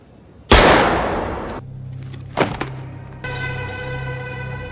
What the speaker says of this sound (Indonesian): Zurab pun menembak orang kepercayaannya begitu saja